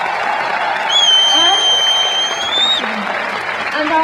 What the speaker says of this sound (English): please help me applaud this wonderful, wonderful orchestra, the Czech National Symphony Orchestra